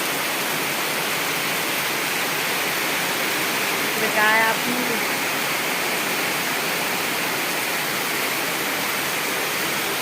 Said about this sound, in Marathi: हे बघा चालू आहे अजून पाऊस.